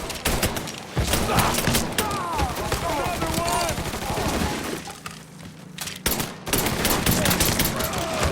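Gunfire in the video game Mafia 3, with rapid bursts of shots and impacts over a busy combat mix, as game characters shout throughout.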